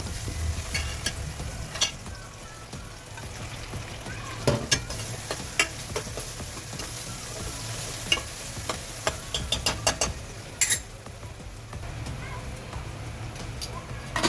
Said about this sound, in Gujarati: હવે આને થોડી વાર તેલમાં સાંતળી લેશું, જામફળ સોફ્ટ થાય ત્યાં સુધી